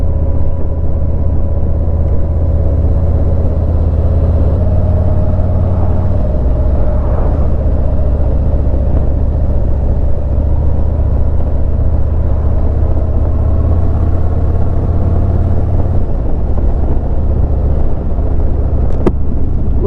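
A demo motorcycle cruising at low speed in fifth and sixth gear on a ride, giving a loud, steady low engine rumble with wind noise that holds constant throughout.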